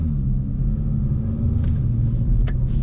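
A 2022 Kia Forte GT Limited with a 7-speed dual-clutch transmission drives in normal mode, its engine and tires giving a steady low rumble heard from inside the cabin, with a few light clicks and rattles over it.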